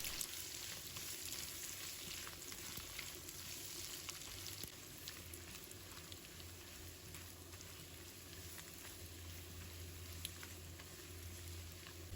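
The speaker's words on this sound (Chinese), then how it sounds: "这个时候把刚才切好的姜丝放入来，再把大蒜和豆豉也放入来，继续给它们炒香，炒出香味。" Ginger, garlic and fermented black beans stir-frying in a wok, a soft continuous sizzle and crackle with faint scraping, heard alone at low volume.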